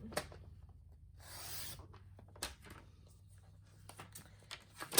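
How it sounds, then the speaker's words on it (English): A 1-inch strip of plaid paper is cut for a handmade card, giving a close, soft rasping slice of about a second with scattered light taps and handling sounds before and after. "you're going to cut another 1 inch from this front plaid section"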